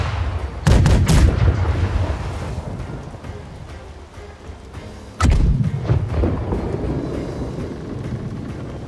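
Ship cannons firing in Blackwake during a naval battle, two heavy booming volleys several seconds apart, each a loud deep blast trailing into rumble over wind and sea noise.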